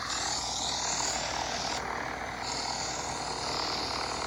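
Cessna 172 single-engine propeller plane in the flight game Infinite Flight, a steady, loud broadband engine and prop drone running continuously with a brief dip in the high hiss midway.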